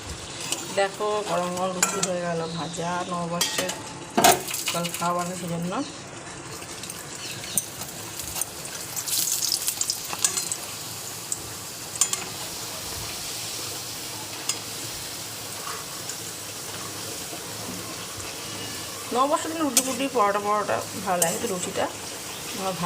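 Aloo chorchori, a potato curry, sizzles steadily in a pan while a utensil clinks and scrapes against the metal, with someone talking over the cooking at the start and again near the end.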